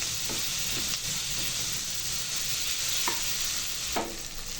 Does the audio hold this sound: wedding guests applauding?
no